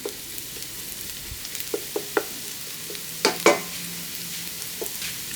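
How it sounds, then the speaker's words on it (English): Aromatics fry in a pan for a single serving of vegetarian tofu noodles, a soft steady sizzle with scattered pops and occasional scraping stirs, close and without talk. "Fry them till fragrance or lightly golden brown, not too golden brown."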